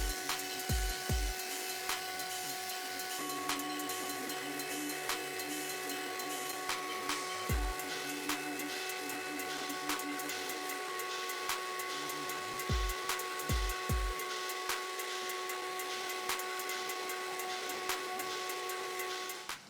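Steady scuffing of sandpaper rubbing over a wooden dresser, continuous and close, broken by a few short pauses and knocks, with a constant mechanical hum underneath.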